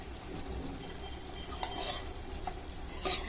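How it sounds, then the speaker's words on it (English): Beef biryani base frying with chili powder in a pot, a steady close sizzle with spoon scrapes and stirring clinks over a continuous hiss. "So let it fry for some time."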